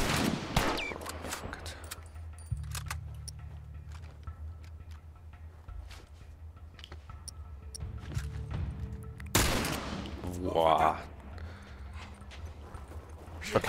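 Gunfire in the PS4 game The Last of Us Remastered, with a burst of shots cutting sharply through the in-game ambience late in the stretch, alongside hoof-like clip-clop sounds.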